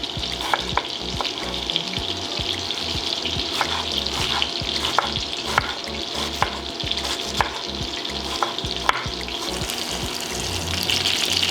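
Minced-meat meatballs fry in a pan with a loud, dense, steady sizzle close by, spattering and crackling throughout, with scattered sharp pops and light clinks over the unbroken hiss.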